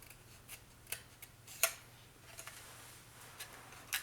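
Scissors cutting card for a pop-up folio: quiet, sparse snips and clicks spaced irregularly, close but faint, with one sharper cut partway through against a low steady hum.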